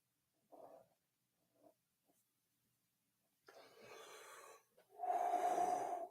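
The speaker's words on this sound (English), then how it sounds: "And we're breathing." Close, audible breaths: a couple of short sniffing inhales, a pause, then a long exhale followed by a louder, deep breath.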